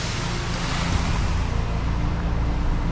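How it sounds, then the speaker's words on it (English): A hose rinses freshly cleaned pavers on a driveway, producing a steady, loud broadband wash of spraying water that runs unbroken throughout. "Getting that good rinse on here, making everything look good."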